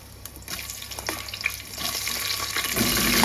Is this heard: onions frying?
yes